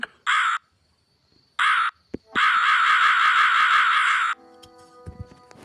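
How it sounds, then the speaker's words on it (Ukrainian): Repeated crow caws from the puzzle game Rusty Lake Roots: two short caws, then one long drawn-out cawing call, loud and close with no talk. "Прикол, ворона."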